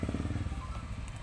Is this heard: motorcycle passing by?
yes